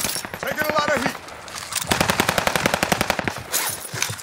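Machine gun fire in the Call of Duty Vanguard video game comes in rapid, loud bursts of closely spaced shots, with a short pause between volleys and players talking over the gunfire.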